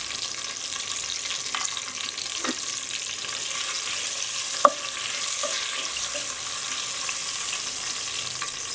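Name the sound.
whole spices (cardamom, cloves, cinnamon, bay leaf, mace) sizzling in oil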